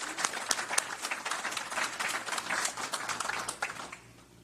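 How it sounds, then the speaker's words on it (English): Audience applause at a basketball award ceremony, a steady patter of many hands clapping for several seconds that fades toward the end. "nice round of applause, please"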